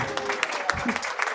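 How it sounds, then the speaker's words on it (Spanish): Applause from a conference audience for the actors after a lecture, a steady moderate clatter of many hands with a few sharper claps, fairly close and continuous throughout. "Y un aplauso para nuestros actores."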